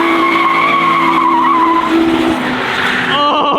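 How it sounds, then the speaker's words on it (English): A drift car's tires skid and squeal loudly in a long continuous screech over a revving engine, with the pitch wavering as the slide goes on and a rougher burst of noise near the end. "Oh, dude, those tires were moving."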